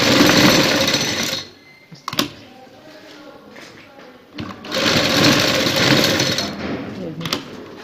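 A sewing machine stitches a kameez neckline in two loud, rapid bursts of whirring stitches separated by a quieter pause with light handling clicks.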